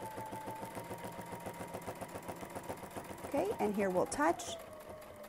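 A sewing machine stitches a crosshatch quilting border with a quick, even needle rhythm. A person speaks over it near the end as the machine briefly grows louder.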